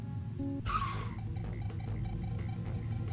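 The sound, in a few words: car brakes screeching, from video game Man I Just Wanna Go Home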